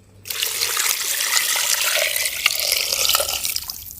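Water is poured into a clay pot of mutton in a steady, splashing rush lasting several seconds before cutting off.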